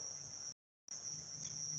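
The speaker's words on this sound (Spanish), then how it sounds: "hay un grillo que me está volviendo loco" A single cricket chirps in a continuous high trill from a small park nearby, faint and steady against low room hum, briefly cut off before resuming.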